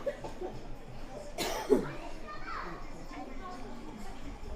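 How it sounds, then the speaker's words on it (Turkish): A sharp cough rises out of a noisy room with children's voices and chatter in the background. "Görüyorsunuz herkes öksürüyor."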